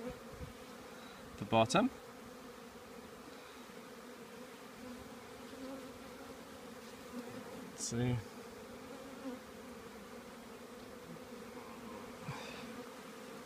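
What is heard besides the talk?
bees buzzing during nuc hive inspection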